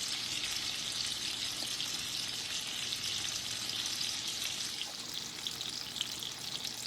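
Fish fillets sear in a hot pan, giving a loud, even, continuous sizzle with faint crackles throughout and no voices.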